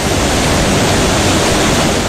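Loud, steady roar of water crashing down a mountain waterfall, a dense continuous rush filling the whole clip with no other sounds.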